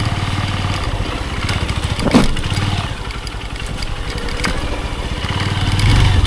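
A motorcycle engine putters unevenly, revving up and down as it rides over a rough, rocky road, close and fairly loud throughout.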